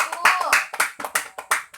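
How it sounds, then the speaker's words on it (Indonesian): A primary-school classroom claps for a student group, a short burst of uneven, close handclaps falling into a rough rhythm of sharp separate slaps. "Tepuk tangan dulu untuk kelompok 1."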